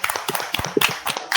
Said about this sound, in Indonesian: Tepuk tangannya boleh dong yang paling meriah.